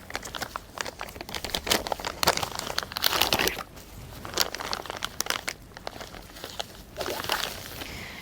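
Transparent VCI anti-rust plastic bags around fuel injector parts crinkle and crunch in close, busy bursts of rustling, with short pauses between handlings.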